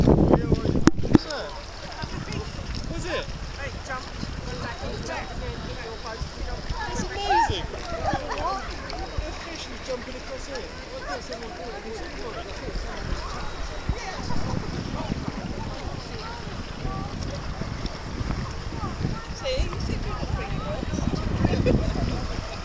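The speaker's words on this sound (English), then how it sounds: "Keep paddling." Kayak or canoe paddling at sea around Deadmans Island and Burntwick Island, with steady water swishing and splashing, wind buffeting the microphone throughout, and voices calling out at times.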